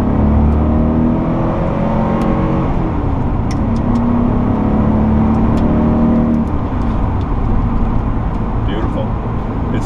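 Interior of a 1981 Porsche 928 with a five-speed manual, its engine pulling steadily through the gears on a rocky road, a loud, continuous smooth drone with rising and falling pitch throughout.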